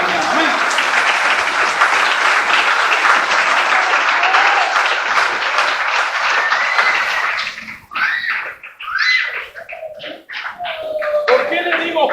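A church congregation claps during a Spanish-language Sunday morning service, loud dense applause for about eight seconds, then it thins into scattered individual claps with a few voices.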